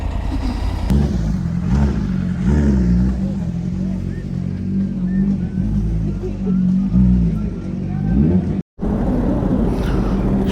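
Roadside motorcycle gathering with many bikes, including Triumph Tiger 850 Sport machines, and passing traffic: continuous low engine rumble with swelling revs and drive-bys, a brief dropout near the end, and someone talking over it.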